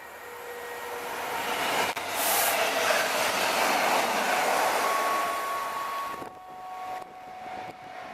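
A Pacer railbus rumbles past with a broad roar that swells and then eases, a brief metallic squeal and tonal whine trailing near the end.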